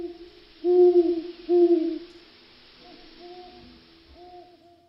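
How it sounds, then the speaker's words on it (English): An owl gives two loud, clear hoots in quick succession, then softer, longer hoots trail off in the distance, with no voices. "Owls, mysterious nocturnal hunters."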